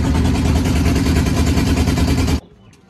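A boat engine runs loudly and close with a steady, throbbing drone, then cuts off abruptly near the end, leaving near-quiet.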